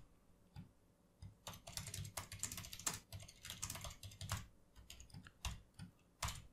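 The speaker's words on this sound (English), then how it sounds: "and if I type something like print" Steady typing on a computer keyboard while entering Python code in a script editor, a close run of crisp clacks in uneven bursts with short pauses, fairly quiet and with no talk.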